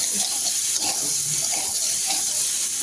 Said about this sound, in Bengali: ভালোভাবে দিয়ে আর জল দিয়ে দেবো